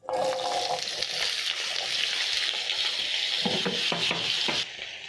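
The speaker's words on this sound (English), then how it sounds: "you're going to place in your potatoes into the same cooking oil that you used to fry your sausages" Steady, loud sizzling and crackling of potatoes frying in hot oil, with a few brief stirring clatters near the end.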